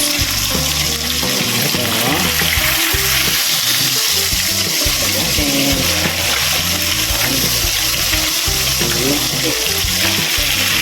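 Jollibee-style burger steak patties fry in a pan with a loud, close, constant sizzle and crackle. People talk over the frying.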